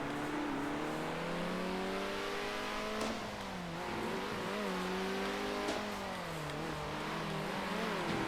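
Race car engines in the video game Circuit Superstars drone and whine continuously, their pitch rising and dropping with gear shifts and cornering, loud and steady without talk.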